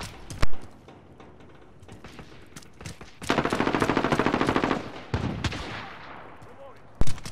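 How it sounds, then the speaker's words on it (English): Automatic gunfire from a teammate being shot in Call of Duty Modern Warfare, a dense rapid burst in the middle bracketed by single sharp shots and scattered in-game noise. "I start shooting my teammate and then he dies"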